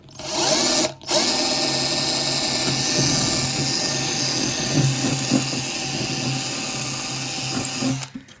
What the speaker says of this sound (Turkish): yine 2 milim matkap ucuyla deleceğiz.